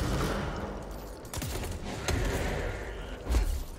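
Gunfire from the video game Control crackles in rapid, uneven bursts against a busy combat backdrop, with a few sharper shots standing out.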